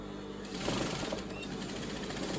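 A sewing machine runs a seam on fabric for a scrunchie, its motor whirring in a steady rapid rhythm that starts abruptly after a short pause and continues close and moderately quiet.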